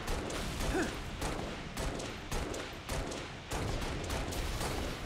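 Sustained gunfire in Halo Reach as a player keeps shooting at an enemy vehicle, with a steady stream of bursts and repeated impacts that stay loud and close for the whole stretch, with no talking.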